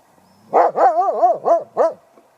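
A male Belgian Shepherd Groenendael barks five times in quick succession, loud and close, each bark rising and falling with a slightly whining tone, with no other voices present.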